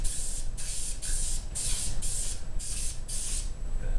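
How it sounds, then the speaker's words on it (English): Spray paint hissing onto a custom-made blaster in short repeated bursts, about seven blasts a half second apart, close and steady with no talking. "Always keep your hand moving when you're spraying, or the paint will collect in one place"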